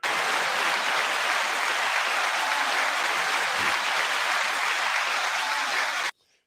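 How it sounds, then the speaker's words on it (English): Sustained, dense applause from a crowd, steady and loud for about six seconds before cutting off abruptly. "9-second applause to everybody."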